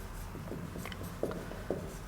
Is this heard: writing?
yes